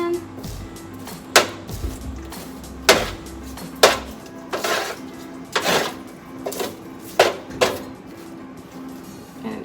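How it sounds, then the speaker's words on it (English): Green beans are pushed across a metal oven pan, giving a series of sharp clanks and scrapes of utensil on pan, spaced irregularly, close and fairly loud. "I'm going to push all my green beans to one side of the pan"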